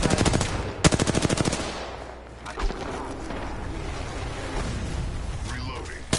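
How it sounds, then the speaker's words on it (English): Automatic weapon fire in the video game Apex Legends, rapid bursts of shots in quick regular rhythm, loud and close, then scattered impacts and game sounds while a voice talks. "Opening fire on the enemy"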